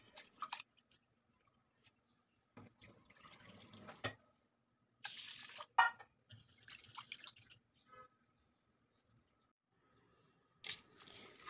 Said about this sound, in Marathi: तांदूळ 3-4 पाण्याने स्वच्छ धुवून घ्या।